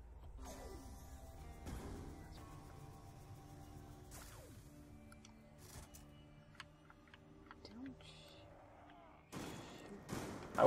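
Gunfire in Black Ops 2 Zombies on the Buried map comes as scattered, fairly quiet shots and impacts over a busy game soundscape of tones and effects, with a louder burst near the end.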